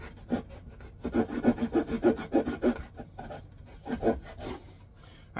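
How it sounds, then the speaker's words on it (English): A handsaw cuts through wood while a pale notch is made, giving a run of rough rasping back-and-forth strokes, fast and steady in the middle, pausing briefly and then resuming with a few more strokes up close. "What I'm doing is just sawing this out of here."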